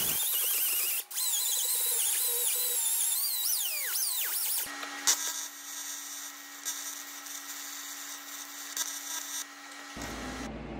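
A power tool whines loudly while cutting off a cracked metal hook hanger. The pitch rises and falls as the blade loads, then settles into a steady, harsh grinding hum for several seconds before stopping.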